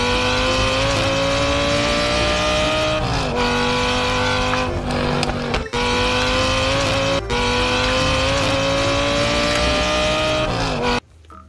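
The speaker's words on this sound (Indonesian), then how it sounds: "Ada supercar berwarna merah" A red supercar drives past with a loud, continuous engine drone that holds a steady pitch, dips briefly and rises again, then cuts off abruptly at the end.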